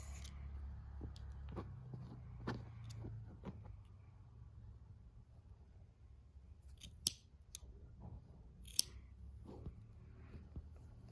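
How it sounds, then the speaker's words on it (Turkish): Quiet, close snips of scissors cutting yarn, a few sharp clicks spaced apart over a low rumbling background. "bunu da makasla kesebilirsiniz"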